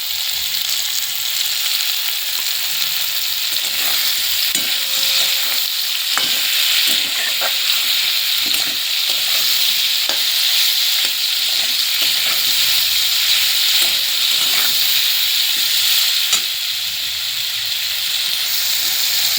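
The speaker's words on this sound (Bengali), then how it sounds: "ভালো করে নেড়ে আমার ভাজা হয়ে গেছে আর ভাজবো না" Raw mango pieces frying in oil with salt and turmeric while being stirred in a pan, a steady loud sizzle with intermittent scraping strokes of the spoon throughout.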